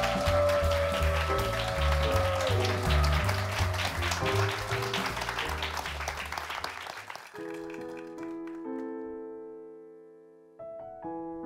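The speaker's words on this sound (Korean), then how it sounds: "뮤지컬 배우 양준모 씨를 큰 박수로 맞이해 주세요." A large audience applauds to welcome musical actor Yang Jun Mo, a dense sustained clapping over loud band music that stops partway as the music carries on alone.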